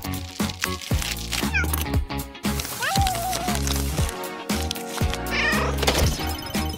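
A pregnant cat meows repeatedly, loud and close, in several rising and falling calls spread across the stretch, with soft thumps and rustling between the cries.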